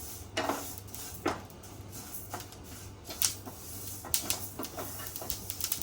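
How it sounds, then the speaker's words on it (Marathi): Flax seeds dry-roasting in a pan give off irregular crackles and soft pops, scattered faint bursts over a low steady hum. "हे बघा असे गरम झाल्यावर असे पुटपुटतात खमंग असे भाजून घ्यायचे"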